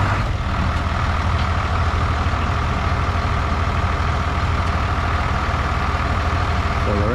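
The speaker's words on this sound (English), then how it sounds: "Today it's nice to have the big tractor." A big tractor engine runs steadily at a metal building construction site, a loud, continuous diesel rumble held at even level throughout with no talk.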